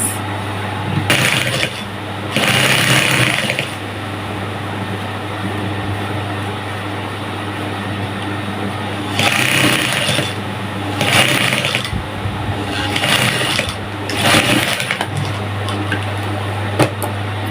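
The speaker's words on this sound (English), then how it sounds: "You pull it and then sew in between it." Sewing machine running in several short bursts while top stitching elastic onto the side band of a skirt, a steady low motor hum throughout with the stitching spells rising and stopping at intervals, no talk.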